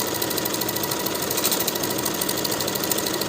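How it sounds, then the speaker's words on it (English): A sewing machine edge stitches around a pant hem, running as a steady, fairly loud mechanical whir with a fast even rhythm throughout, with no voices. "Now I'm going to edge stitch along my finishing stitches all the way around"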